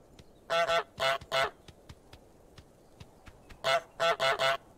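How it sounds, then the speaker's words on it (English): A cartoonish goose in Untitled Goose Game honks in two bursts of three, each loud nasal honk quick and evenly spaced, with quiet pauses and faint ticking between the groups. "I honked! Press F to honk respects."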